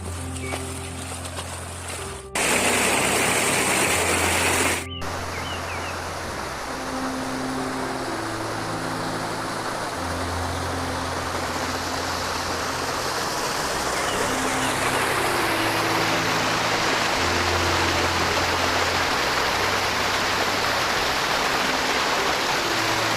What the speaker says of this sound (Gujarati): તો દોસ્તો અમે ધોધની નજીક કંઈક પહોંચી જવા આવ્યા છે.